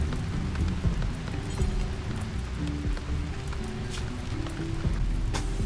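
Rain in the Rimworld video game, a steady dense patter of drops on surfaces with occasional low rumbles underneath, continuous and fairly loud throughout.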